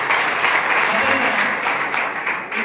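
Applause from a training-program audience fills the room, a dense, steady wash of many hands clapping close and loud for the full stretch, fading slightly at the end.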